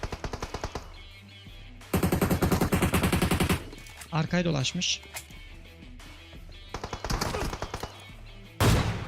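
Automatic gunfire in PUBG Mobile, rapid bursts of rattling shots in several separate volleys, loud and close, broken by short pauses while players talk over the action.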